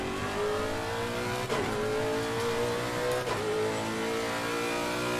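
A race car engine in the Assetto Corsa Competizione sim holds a steady high-pitched drone on track, rising smoothly through the gears with two brief dips at the shifts, and no one speaks.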